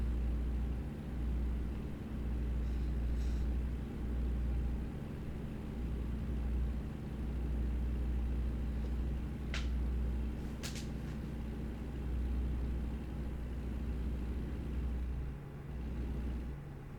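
A truck driving in American Truck Simulator, a low continuous engine and road rumble at steady moderate level, with a couple of brief faint higher clicks partway through.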